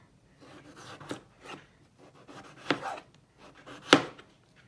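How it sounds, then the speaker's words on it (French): Knife strokes cut eggplant, chili and onion on a board in a quiet kitchen, a string of uneven chops with two sharper, louder hits standing out. "Voilà, je coupe tout ça et je reviens."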